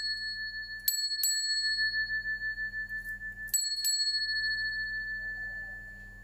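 A small hand bell is rung twice, each time two quick bright strikes whose clear ringing tones hang and fade slowly in a quiet room, rung to invite the goddess Brigid during an Imbolc meditation.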